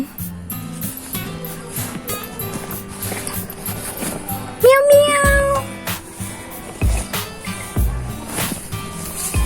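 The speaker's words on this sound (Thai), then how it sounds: "น้องแมวเราอยู่ในคอกนะ" A cat in a pen meows once, a clear rising-and-falling call standing out over a steady busy background of other sounds in a home strawberry-growing setting.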